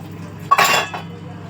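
Prawns tipped into a cooking pan with utensils give a short burst of metallic scraping and clinking, one clattering moment near the middle of an otherwise quiet kitchen with a low background hum.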